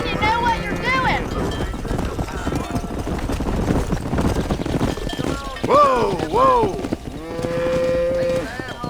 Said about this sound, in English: Herd the cows down the road.